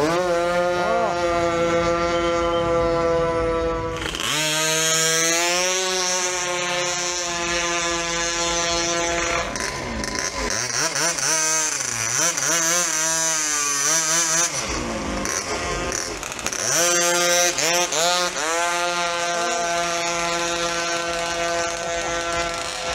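A Honda Dio drag-racing scooter engine in Thailand revs hard and loud, its pitch climbing and falling in repeated surges, with brief drops between bursts.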